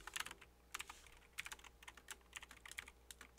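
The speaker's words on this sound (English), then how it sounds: "If I can type right here" Keys on a computer keyboard are typed in quick, close bursts of sharp clicks, with short pauses between runs of strokes over a faint steady hum.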